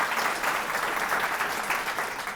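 An audience at a scholarship presentation applauds Ms. Newman with a steady, even round of clapping, heard from a moderate distance with no voices over it.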